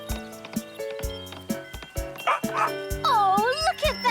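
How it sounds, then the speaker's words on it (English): Cartoon dogs bark and yip in a rhythmic, musical duet, the short barks landing on a beat over a bouncy background score, with a stretch of high whining yowls near the end. "Oh, look at that doggy duet."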